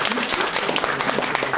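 At an exhibition opening in a scientists' house hall, an indoor audience claps in a brief, fairly close burst of scattered applause, with voices murmuring underneath.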